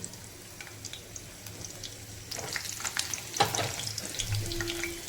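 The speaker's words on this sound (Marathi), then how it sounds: "तेल तापले जे लसूण टाकून घ्यायची ठेचलेली लसूण" Crushed garlic sizzles in hot oil in a pan for a radish and radish-leaf stir-fry, a soft steady frying hiss that swells louder halfway through, with a few faint clinks and scrapes.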